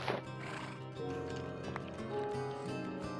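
A horse in the Minecraft video game, heard as short game sound effects of hooves and a whinny over a continuous tonal background, moderately quiet with no talking.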